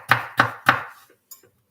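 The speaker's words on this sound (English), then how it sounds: "I prefer chopping my veggies" A knife chops through raw radish on a board in three sharp, evenly spaced strokes close up, followed by a couple of softer taps as the blade settles.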